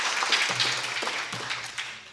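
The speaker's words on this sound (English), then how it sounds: "Can I have a loud clap then?" Women at a DXN products training session in Dubai give a short burst of clapping, a moderate patter that tapers off, with a faint low hum beneath.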